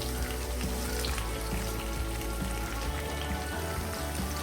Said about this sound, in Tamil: இதில் வெங்காயமும் கருவேப்பிலையும் ஆட் பண்ணிக்கலாம்